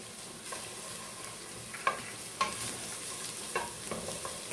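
Garlic and chili frying in a pan while being stirred, a soft constant sizzle broken by several sharp scraping clicks of the utensil against the pan.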